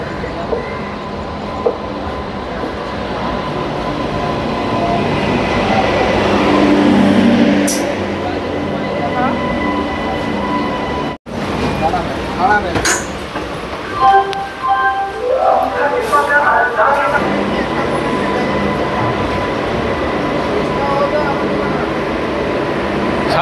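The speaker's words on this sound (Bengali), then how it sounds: "5:45 ট্রেন আমাদের সাঁতরাগাছি থেকে ছেড়ে দিল সাঁতরাগাছি ঝাড়গ্রাম মেমু।" A Santragachi–Jhargram MEMU train departing Santragachi station gives a loud, close, continuous rumble with rail clatter that briefly drops out midway, while faint voices carry in the background.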